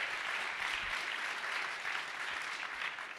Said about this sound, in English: Let's give another round of applause for Molly White here